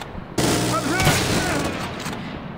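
Video game gunfire erupts in a loud, dense burst of rapid shots and booms, sustained for about two seconds before cutting off, with faint voices mixed underneath.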